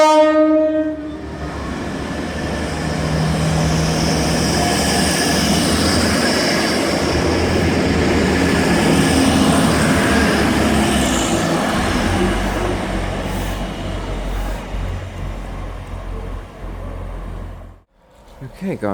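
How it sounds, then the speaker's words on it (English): A class 180 diesel multiple unit, working a Sunderland to London King's Cross service, passes on the up main line at Lincoln, its engine and wheels roaring loud and close for most of the time before fading out. "now passing on the up main is a class 180"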